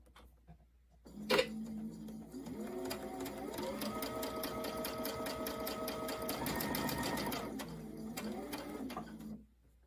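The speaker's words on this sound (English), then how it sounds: "we're just going to sew these together" A sewing machine stitches puzzler-pattern patchwork quilt block pieces together. After a sharp thump it runs as a steady, close buzzing whir for about seven seconds, then stops abruptly.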